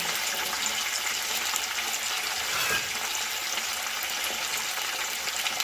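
Half a cup of water poured onto chicken frying with onions for mandi rice sets off a loud, steady sizzle and hiss that runs throughout, close and without talk.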